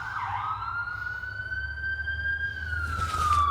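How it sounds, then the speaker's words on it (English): Ambulance siren sweeping steadily outside, a loud wailing tone that slowly rises and falls over a low rumble of passing traffic, with no talk over it. "Just waiting for the ambulance."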